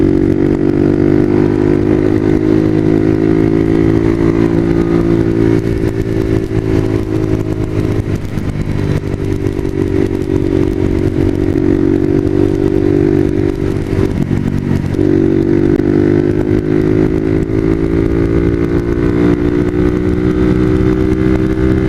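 Motorcycle engine droning steadily while riding, recorded close by a tail-mounted GoPro Hero 3 camera, with loud continuous engine tone, wind and road rumble and a slight pitch dip midway.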